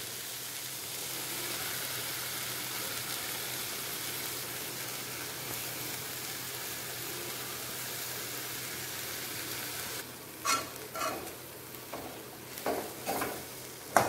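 Mushroom masala with spice powders being stirred in a hot pan, giving a steady soft sizzle for most of the time, then a few louder scraping stirs near the end.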